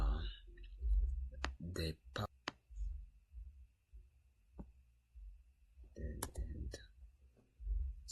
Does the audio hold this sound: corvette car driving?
no